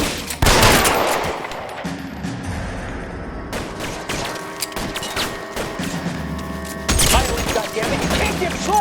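Gunfire in the L.A. Noire Remastered video game: rapid bursts of shots and sharp cracks crowd together, with a dense volley at the start and another heavy burst near the end, under a busy game mix.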